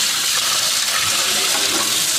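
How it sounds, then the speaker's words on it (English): Cold water running steadily from a kitchen tap while butter is being made, a continuous loud gush that fills the whole stretch with no talk over it. "I'm going to add some more cold water just from the tap."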